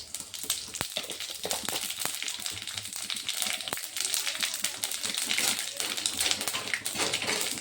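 Whole cumin seeds crackle and sizzle in hot mustard oil, a dense, steady frying hiss scattered with sharp close pops and ticks throughout.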